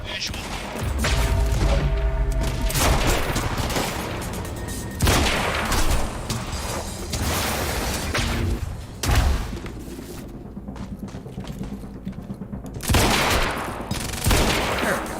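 Heavy gunfire from the video game Quantum Break, with sniper shots, fills the whole stretch: sharp booming cracks and rattling bursts crowd together, loud and close, with voices mixed into the din.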